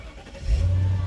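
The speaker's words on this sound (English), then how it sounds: "Let's hear this thing fire up. It's got the keyless start stuff, so you don't even need to have the key in." Car engine catching and firing up through keyless push-button start on a four-door supercar that has a check engine light for an air leak, a quick crank then a loud close rumbling idle.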